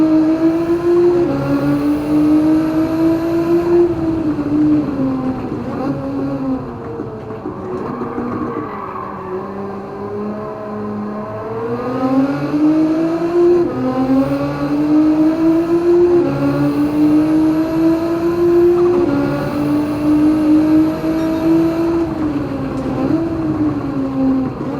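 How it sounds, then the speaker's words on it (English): A tuned Nissan GT-R making over 800 horsepower, in Gran Turismo 7, holds a loud, steady high-revving engine drone, dipping briefly as it shifts or lifts before climbing back to a sustained race-car whine. "This GTR has also been tuned to produce over 800 horsepower"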